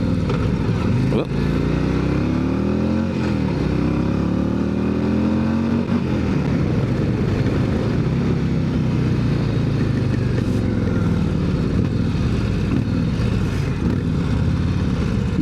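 A 2025 Harley-Davidson CVO Road Glide motorcycle on a ride, its engine droning loud and close with rising and falling revs through gear changes, steady wind rush underneath and a rider talking at times.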